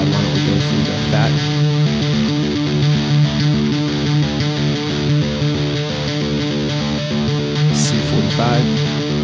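An electric guitar played through a Brainworx Friedman BE100 amp plugin with the fat mode engaged on the distortion channel gives a thick, heavily saturated tone that sustains loud and steady throughout.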